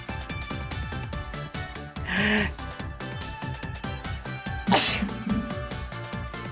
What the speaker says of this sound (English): I feel another sneeze coming.